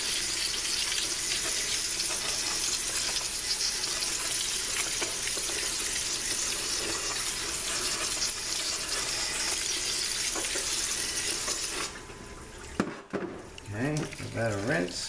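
Tap water pours steadily over a Mercedes 722.6/NAG1 transmission valve body part as it is rinsed, a close, continuous splashing hiss that stops near the end, followed by a few light clunks and handling noises.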